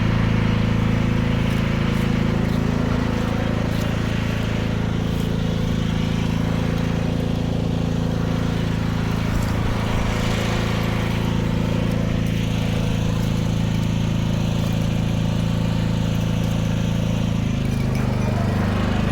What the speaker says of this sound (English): Pardon the lawnmower.